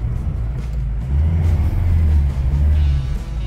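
A Chevrolet S10 pickup stuck on a hill in 4x4 revs its engine hard, a loud close rumble that swells in the middle and eases off near the end.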